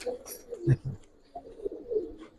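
Pigeons coo in a low, throaty burst near the start, including silver-colored birds being sold, followed by a few softer coos, with a voice speaking briefly alongside.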